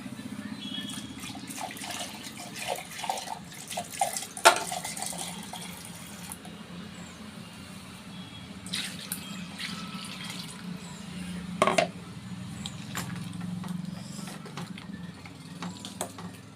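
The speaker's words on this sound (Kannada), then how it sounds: "ಸೊ ಇನ್ನೊಂದು ಸ್ವಲ್ಪ ನೀರು ಹಾಕ್ಕೊಳ್ಳೋಣ" Water runs and splashes into a pot of pea gravy, uneven and fairly soft, with a couple of sharper knocks and a low background hum.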